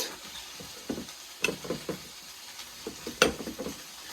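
Moose meat sizzling in a hot frying pan, a steady crackle broken by sharper pops and spits, close and clear with no talking.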